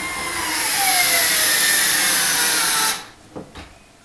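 Bosch PushDrive cordless screwdriver driving a screw into wood, a loud steady high-pitched motor whine that rises slightly in pitch before cutting off abruptly, followed by a couple of brief faint clicks.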